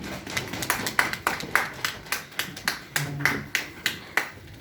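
A church congregation at a Sunday service applauds in a steady, rhythmic clap, each sharp hit evenly spaced and fairly close, with no voices over it.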